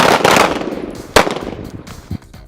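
Gunfire on an outdoor shooting training range: a loud burst of rapid shots at the start, then a second sharp report with echoing decay and a fainter shot near the end, close and without talk.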